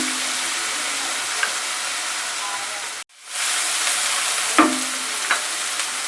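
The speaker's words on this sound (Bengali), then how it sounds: "পেঁয়াজটাকে 2 মিনিট মতো ভেজে নেব।" Onion fries in a pan with a loud, steady close sizzle and occasional stirring knocks, cut off briefly midway before the hiss resumes.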